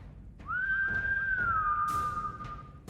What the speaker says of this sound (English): I give a whistle